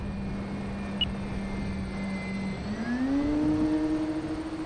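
An electric E-flite Carbon-Z Cub SS RC model airplane with a 2.1 m wingspan flies overhead, its motor a steady whine that climbs in pitch as the throttle opens, fairly faint and distant, with no talking.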